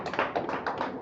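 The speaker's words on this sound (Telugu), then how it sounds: "అందరు క్లాప్స్ కొట్టాలా?" A church congregation bursting into applause, a dense wash of many hands clapping at once that rises and falls in brief swells over about a second, close and fairly loud, with no talking.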